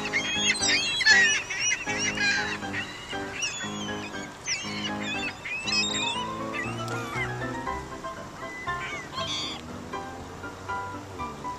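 A flock of birds gathered at a feeding pile calls continuously, with overlapping honking and squawking cries, some loud and near, others layered behind in a busy chorus.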